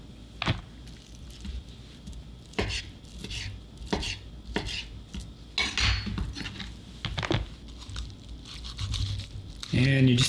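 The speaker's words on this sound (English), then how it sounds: "continuing with the shredding of this meat, either shredding it or dicing it up" Cooked chicken for Instant Pot chicken soup being shredded and diced with a knife on a board, giving repeated close, sharp chopping taps and clinks in irregular bursts, with a voice talking over the work.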